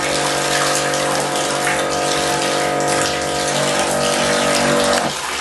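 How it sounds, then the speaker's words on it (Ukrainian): Water rushes steadily through a sewer pipe just cleared of grease, a loud, continuous close gushing flow that holds for several seconds before easing slightly at the end. "Ось, ось дивіться, зараз піде вода вже краще."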